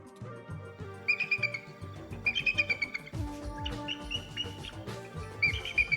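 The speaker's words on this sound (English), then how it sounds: "red-tailed hawk is a classic like bird of prey sound, but they sound quite silly" Recorded call of a red-tailed hawk, a bird of prey, played back as a series of high, clear, repeated cries in short bursts over a busy, layered background.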